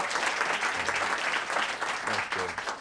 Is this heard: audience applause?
yes